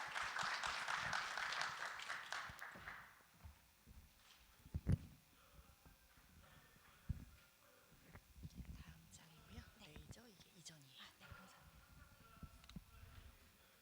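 Applause from a conference audience at a media expo breaks out loudly for about three seconds, then fades into quiet room murmur, scattered footsteps and low speech.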